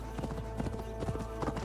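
A horse gallops in Assassin's Creed Valhalla, its hooves beating a quick, steady clip-clop close up and fairly loud throughout, with no talk over it.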